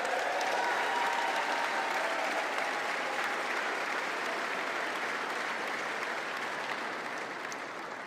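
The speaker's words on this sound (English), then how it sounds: "we need to give them a big round of applause" A big round of applause from an audience, dense and even clapping that holds steady at moderate loudness and tapers slightly toward the end, with no talking over it.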